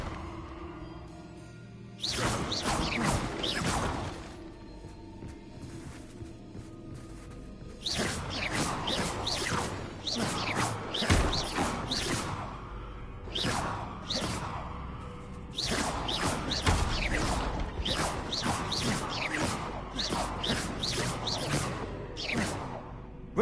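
In the Hogwarts Legacy video game, the Bombarda blasting spell is cast repeatedly, producing bursts of forceful whooshing and crackling energy in clustered waves over a steady background.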